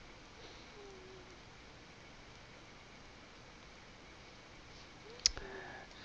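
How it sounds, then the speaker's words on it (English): A computer mouse double-clicks once, giving a quick, sharp pair of clicks near the end against a faint, quiet background hiss. "Double click it."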